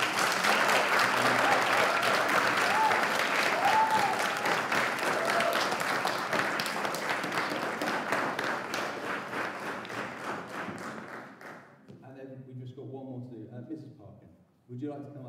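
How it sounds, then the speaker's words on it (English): Audience at a junior school production applauds steadily for about eleven seconds, a dense, loud wash of clapping that then thins out, with a few voices talking nearby as it fades. "Charlotte, we'd like to give you a big round of applause."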